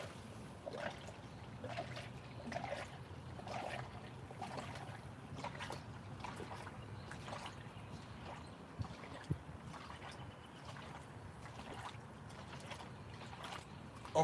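Water poured into coolant concentrate during a Prius head gasket replacement, a continuous irregular splashing and trickling stream with small gurgles, moderately close, running for several seconds.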